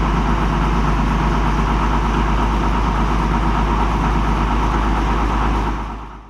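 A vintage Hercules DFXe straight-six diesel engine runs with a steady, low rumbling drone, loud and constant, fading out at the very end.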